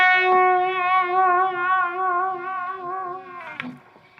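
Electric guitar with effects and slight distortion slowly playing a relaxed blues lick, one long sustained bent note wavering with vibrato before a short picked flourish, clean and close.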